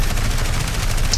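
An aircraft's cannon fires in a continuous rapid burst in the War Thunder combat game, loud, close and heavy, with a dense low-end pounding.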